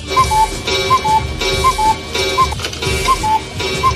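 A novelty cuss button gives a repeating electronic sound effect, a looping pattern of short chirps and beeps over a rumbling background, steady and fairly loud with no voices.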